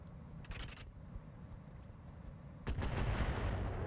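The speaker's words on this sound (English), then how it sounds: "the amount of rockets that are being fired in this direction and don't hit is incredible" Rockets launching in the RogueTech mech combat game, a quick cluster of sharp bursts early, then a heavier blast and rumbling volley near the end over a constant low battle drone.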